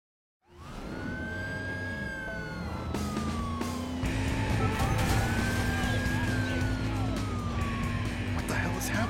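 A wailing ambulance siren in a video game (Driver: San Francisco) rises and falls continuously over engine rumble, loud and close, with voices talking underneath.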